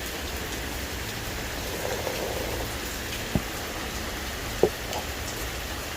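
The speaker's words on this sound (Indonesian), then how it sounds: "Hujan-hujan gini enak banget." Steady rain falls as a soft, even hiss of droplets, with a couple of brief louder drips standing out close by, and no talk over it.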